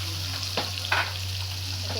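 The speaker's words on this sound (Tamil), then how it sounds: "இது கூட நான் வெங்காயம் சேர்த்துக்கிறேன்." Onions sizzle steadily in a frying pan of oil while making palak paneer, a soft continuous hiss with a couple of brief stirring scrapes near the middle over a low steady hum.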